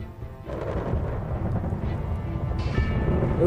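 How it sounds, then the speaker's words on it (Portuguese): Deep rolling thunder from nearby lightning strikes during an approaching storm, a loud continuous low rumble that swells and builds steadily, heard alone without voices. "os raios caem cada vez mais perto e são cada vez mais frequentes"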